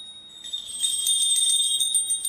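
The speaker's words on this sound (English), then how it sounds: "please ring the bell as you do so" A small hand bell rings during an arati lamp offering, a continuous bright tinkling that starts after a brief pause and keeps up steadily at close range.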